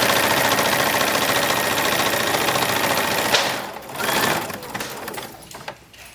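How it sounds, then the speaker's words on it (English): A sewing machine stitches the front of an 1860s-style chemise to the back along with its gores, a close, steady mechanical whir that runs for a few seconds, then stops and gives way to a few softer bumps and handling noises. "Now we're sewing the front to the back with the gores as well"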